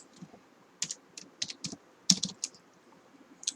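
Keystrokes on a computer keyboard, a short burst of several crisp clicks followed by a few scattered single taps, close and moderately loud with no talking.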